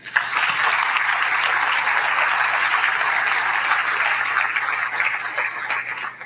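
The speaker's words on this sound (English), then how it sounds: "let's give them a round of applause" Audience applause at a CDC Director's event in Louisville: dense, steady clapping from a large crowd that holds evenly for about six seconds, then tapers off briefly at the end.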